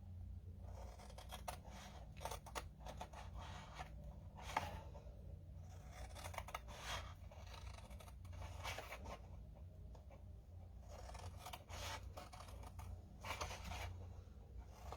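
Repeated snips of scissors cutting paper panels, close and crisp in short irregular bursts, over a steady low hum.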